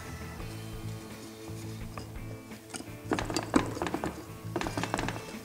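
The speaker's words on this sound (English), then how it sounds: "there's a couple little pry points to pry the halves apart. So what we'll do is we'll take a screwdriver and just kind of ease in there" A screwdriver works at the pry points between the final drive housing halves of a Honda TRX300 ATV in a shop, faint scraping giving way to a burst of close metallic clicks and clanks.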